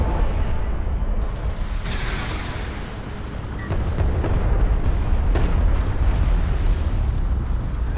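A bomb detonates on a carrier in a Homeworld: Deserts of Kharak match, a dense rumbling blast with scattered crackling impacts and booms rolling on continuously, loud and close, without voices.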